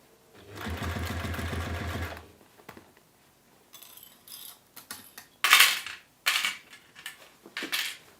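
A sewing machine stitching a bowling bag runs in one steady, close burst of about a second and a half. Clinks and handling noises of the workpiece follow in short separate bursts.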